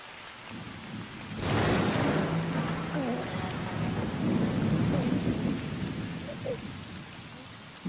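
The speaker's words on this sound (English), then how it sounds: "the rain is a blessing brought by your birth" Steady rain falls throughout with a rumble of thunder rolling in near the start, the downpour continuing loud and close with no talk.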